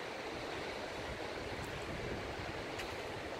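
Steady, broadband wind rushing at the seaside in Kołobrzeg, a constant roar blending with distant surf, with no voices.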